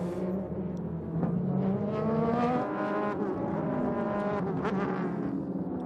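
Porsche Boxster and Ferrari race cars at a SUPER GT round at Okayama, engines droning steadily at close range with rising and falling pitch as they run together, continuous and loud throughout.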